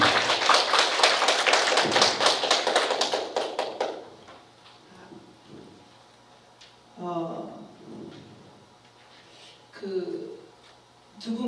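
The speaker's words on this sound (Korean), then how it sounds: "다시 한번 격려의 박수 부탁드립니다." Audience applause at a lecture session of a 4·3 citizens' academy: dense, loud clapping for about four seconds, then it dies away, followed by quiet room sounds and a speaker talking.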